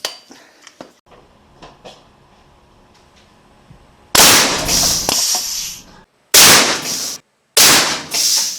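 A homemade airgun with a slide hammer valve firing a pencil: soft handling clicks and taps lead into three loud, sharp blasts, each with a short ringing tail and a brief silence between them.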